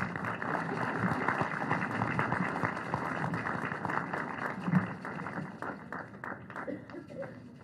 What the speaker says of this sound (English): Encourage them by your claps.